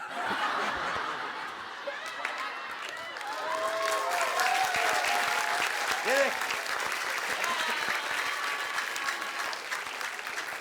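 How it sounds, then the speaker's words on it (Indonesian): Applause from a comedy show audience for costumed performers, a dense sustained patter of many hands mixed with some laughter, with voices speaking and shouting over it throughout. "Berikan tepuk tangan buat Charlie Chaplin, buat Mr. Bean, sama buat Hanoman."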